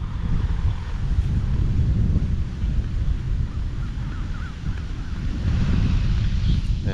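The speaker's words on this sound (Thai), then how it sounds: "ฝนนี่ลมมาก่อนเลยแล้วก็ฟ้าแรงมากเลย" Strong, steady wind ahead of a summer storm roars and buffets the microphone in an open rice field, a low continuous rumble that swells and eases without letting up.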